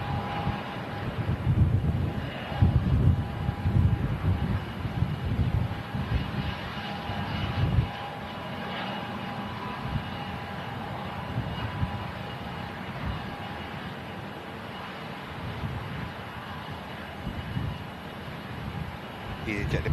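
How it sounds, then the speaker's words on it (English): An EasyJet airliner departs Manchester Airport, its jet engines roaring loudest early on and then fading into a steady distant rumble, with wind noise and a commentator's voice intermittently over it. "EasyJet departs."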